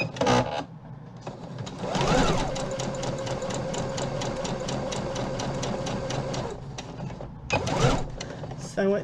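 A sewing machine stitches a folded curtain tab, running in a fast steady mechanical rhythm for several seconds with brief stops at each end and a person speaking softly under it.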